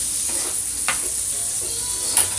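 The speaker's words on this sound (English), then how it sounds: "Now, let's stir these around." Potatoes sizzle steadily in butter in a pan while a utensil stirs them, giving a few soft scraping strokes over the constant close frying hiss.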